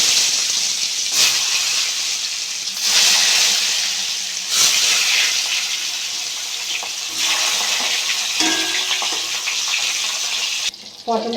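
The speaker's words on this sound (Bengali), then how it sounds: "পটলগুলো ভেজে নেব।" Pointed gourd pieces dropped into hot mustard oil in a wok, giving a loud, bright frying hiss that swells in bursts, with a few clinks near the end.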